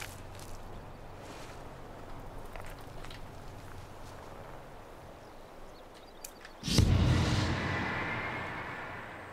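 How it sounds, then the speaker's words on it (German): Quiet ambient sounds and soft steps on a beach in the game Enderal lead into a sudden loud blast about two-thirds through, which then fades into a lingering rumble. "Explodiert."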